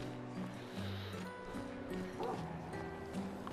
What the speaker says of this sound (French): Un chien dans les parages.